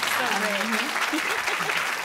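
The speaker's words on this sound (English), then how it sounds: "Let's give another round of applause." Audience applause at the close of a cooking talk, a steady wash of clapping with a voice speaking over it.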